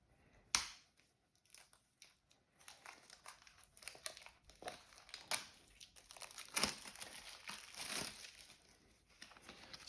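Plastic wrap being peeled and crumpled off the cards of the Tales from the Loop board game, with close, crisp crinkles and tearing that come in uneven bursts, one sharp rip near the start, and no voices.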